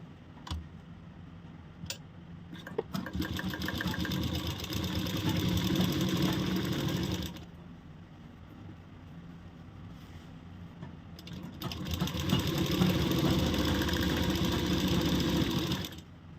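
A sewing machine stitches a salwar, running in two long steady bursts of rapid mechanical chatter separated by a quieter pause, close and alone with no talk.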